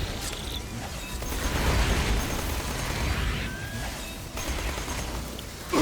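Explosions in Borderlands 2 rumble and crackle in a continuous dense wash of blasts and debris, swelling midway, dipping briefly, then surging again at the end.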